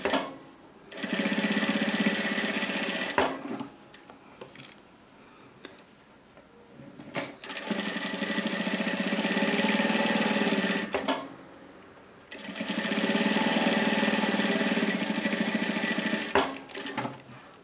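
A sewing machine stitching a fabric strap runs in three long steady bursts of rapid whirring, each lasting a few seconds, with quieter pauses and small handling noises between them.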